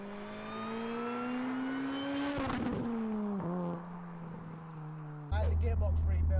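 A supercharged 350 bhp Honda Accord with a rebuilt gearbox pulls hard through the gears. Its engine note rises steadily, dips at a gear change, then climbs again, loud and close, with a whining tone.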